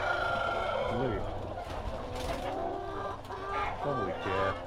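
Chickens clucking and calling inside a chicken farm barn, many birds close by in a busy overlapping chorus with repeated rising clucks, while people talk quietly underneath.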